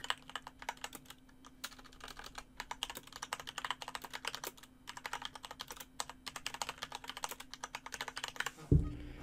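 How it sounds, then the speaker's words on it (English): Continuous rapid typing on a computer keyboard, dense clacking keystrokes in quick irregular runs with brief pauses, heard fairly quietly, ending with a thump. "The clacking of the keyboard sets me off."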